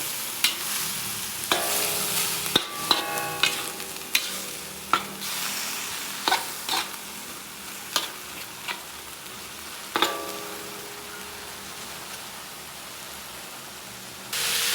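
Palabok sauce with ground meat stirred in a pan, soft sizzling beneath a series of sharp spoon scrapes and clacks spaced a second or two apart, then a quieter simmer.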